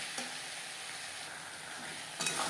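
Spice paste with red chili powder and tomato cooking in a pan for a bhetki fish bone dish, a steady soft sizzle with a couple of brief scraping stirs, close and moderately quiet, no voices.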